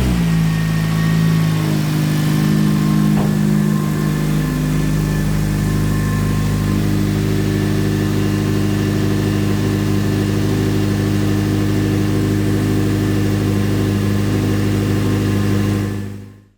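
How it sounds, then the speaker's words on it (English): Acura TSX engine running at a steady idle after its second startup, a close, continuous mid-pitched hum that holds for about sixteen seconds before cutting off abruptly. "The motor sounds amazing. It started right up."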